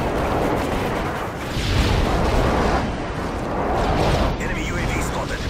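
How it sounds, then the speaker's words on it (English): Booming, rumbling blasts from an enemy airstrike in a first-person shooter game, loud and continuous with two swelling surges of explosions over dense battlefield noise. "Enemy airstrike approaching."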